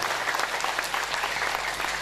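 Audience applause at a madrasah ceremony, a dense burst of many hands clapping together steadily and fairly close throughout, with no talk over it.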